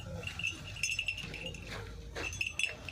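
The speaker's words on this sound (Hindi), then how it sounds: "एक बकरा है और एक ये बकरी है" Goats at a Karachi livestock market bleat close by, with a few short calls over a busy crowded background.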